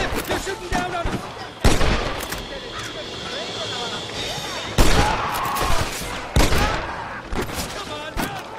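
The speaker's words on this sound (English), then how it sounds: "They're shooting down on us!" Enemies firing down from a cliff in the video game Red Dead Redemption, loud separate gunshots cracking out at irregular intervals over a noisy battle background, with voices in game dialogue.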